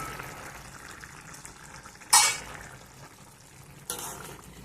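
Tomato and capsicum cooking in a pan, a gentle frying sizzle with brief bursts of louder spatter and stirring. The sound is close and moderately quiet, with no voices.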